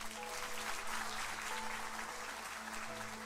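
A church congregation applauds during a sermon, a steady wash of many hands clapping, fairly distant and even, with a low hum and faint voices underneath.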